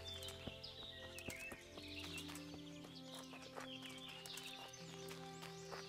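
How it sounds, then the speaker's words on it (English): Horse hooves clip-clop at a steady trot in the video game Kingdom Come: Deliverance, faint beneath sustained background music tones, with a few bird-like chirps. "Oh, he has a horse!"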